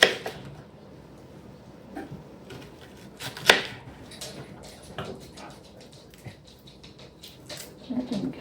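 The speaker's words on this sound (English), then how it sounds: "My last onion of the 3 onions. I'm just gonna chop it pretty big." Knife chopping an onion into large pieces, heard as scattered irregular cuts and taps of the blade on a board, fairly close but soft, with some handling noise between strokes.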